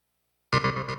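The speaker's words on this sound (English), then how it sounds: "That's what a tremolo sounds like." Guitar synth with a tremolo effect, a short sustained tone whose volume pulses and wavers after a sudden start, heard alone and close.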